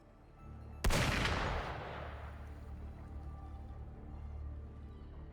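Gunfire in the video game Galbrena Quest: one sharp, loud blast that rings out and fades into a low rumble, with no voices.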